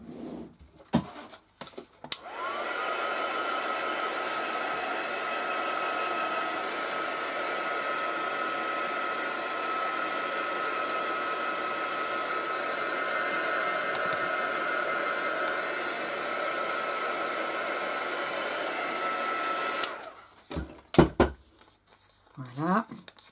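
A hair dryer blows steadily at close range for about eighteen seconds while drying 3D Pearl paint, with brief rustling and handling noises before and after.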